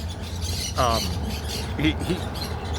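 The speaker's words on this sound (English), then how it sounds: "There's parrots, wild parrots in Southern California, and they get noisy." Wild parrots squawking in a tree in Southern California: a few sharp, harsh calls, one loud and near, then shorter cries, over background street noise.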